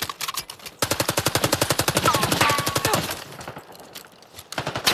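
Rapid automatic gunfire from Call of Duty: Black Ops 6 rattles in a long, evenly spaced burst of loud shots, then a pause and a few more scattered rounds.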